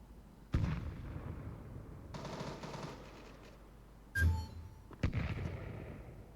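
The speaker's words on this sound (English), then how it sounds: "Grenade out." Gunfire and explosive blasts in a tactical shooter video game, with several loud bursts separated by quieter stretches, one sharp blast followed by a ringing tone, no voices.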